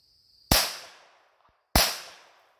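.22 LR Velocitor rounds fired into milk jugs outdoors: two sharp, loud gunshots about a second apart, each followed by a brief decaying echo, with near silence between them.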